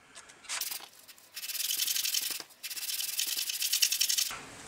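Hand sanding a wooden model ship piece, close scratchy rubbing strokes in several rhythmic bursts with short pauses between, steady and fairly loud with no talk.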